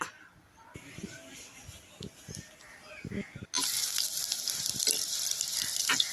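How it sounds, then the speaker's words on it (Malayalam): Onions sizzle in a hot pan on a gas stove, the hiss jumping louder halfway through, with soft stirring knocks and a voice speaking. "ചട്ടി ഗ്യാസിലേക്ക് വെച്ച് സവാള ഇട്ട് വഴറ്റുക"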